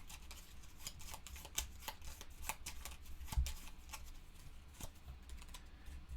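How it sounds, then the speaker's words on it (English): Cards for a Fallout board game are shuffled at a tabletop, a steady run of soft riffling and crisp flicks, with a few louder snaps and thumps scattered through the continuous shuffling. "We're going to shuffle this."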